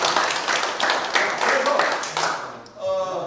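Audience clapping at a Rotary training seminar, a dense, steady burst of hand claps that fades out near the end.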